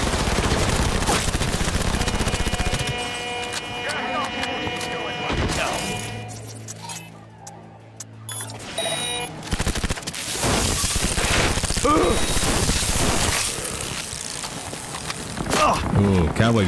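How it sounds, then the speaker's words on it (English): Rapid SMG fire from a shock-damage submachine gun in Cyberpunk 2077, loud sustained bursts over about sixteen seconds with a brief lull in the middle, mixed with other combat noise and talk. "I love this SMG."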